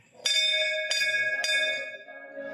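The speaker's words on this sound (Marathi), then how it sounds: "ही घंटा आहे." A bell at a Shiva temple on a hilltop is struck three times in quick succession. Each clear metallic strike rings out loud and close, and the shimmering tones overlap and decay slowly.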